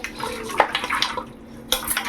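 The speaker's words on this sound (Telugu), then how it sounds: "ఇప్పుడు దీంట్లో ఒక 1/2 గ్లాస్ వాటర్" Half a glass of water poured into mutton curry in a cooking pot, a short run of splashing and clinking bursts up close, with a brief lull before a final splash.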